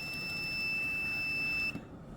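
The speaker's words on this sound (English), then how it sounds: "If I press the button, you can hear the buzzer when the pump's going." An electronic buzzer on an automatic plant watering system sounds as its pump runs, a thin steady two-tone beep over a low whir that stops abruptly near the end, fairly faint.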